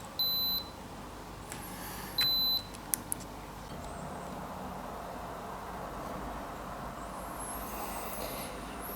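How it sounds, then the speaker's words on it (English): A power bank built from 18650 cells beeps at low-voltage cutoff: two separate high electronic beeps, each about half a second, spaced apart, followed by a couple of faint clicks and steady background hiss. "when it reaches the minimum cutoff voltage, it turns off and beeps"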